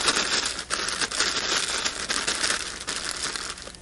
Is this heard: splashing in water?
no